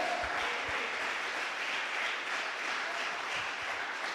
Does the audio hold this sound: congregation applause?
yes